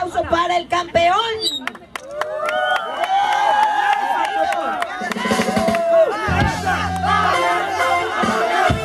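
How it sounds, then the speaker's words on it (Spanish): A large crowd of Alianza F.C. supporters celebrating the champion, dense cheering and shouting with a loud voice over a public address system, chanting and bursts of noise swelling toward the end. "¡Fuerte el aplauso para el campeón!"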